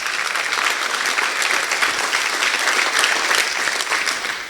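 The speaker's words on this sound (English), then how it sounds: "let's give our sponsors a big round of applause" Dinner crowd at a Republican fall dinner in Monticello, Iowa, applauding its sponsors: steady, dense clapping from a large room that holds evenly for several seconds without a break.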